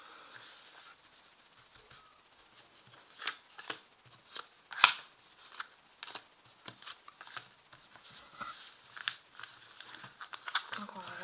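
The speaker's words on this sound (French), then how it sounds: "Je vais tirer 5 cartes que je vais mettre en croix." Tarot cards being drawn from a deck and laid out one by one in a cross, soft papery slides, taps and flicks that come close and quiet, with a few sharper snaps.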